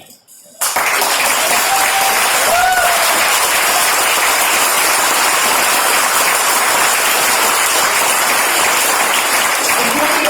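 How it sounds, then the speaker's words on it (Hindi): A seminar audience at a business-building event breaks into loud, continuous applause after a brief quiet start, dense clapping sustained evenly to the end. "अगर आप ताली बजाएंगे, एक ताली 1 लाख के रूप में कन्वर्ट होगा"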